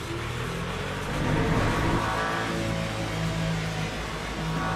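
Race car engine in the sim racing game Le Mans Ultimate, a steady dense roar that swells slightly as it revs, continuous and loud with no talk over it.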